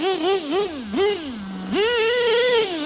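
Nitro RC truck, an LST fitted with a Hobeo carburetor and running lean, revving loud and close, its pitch rising and falling in quick bursts, then settling into a longer, steadier high whine.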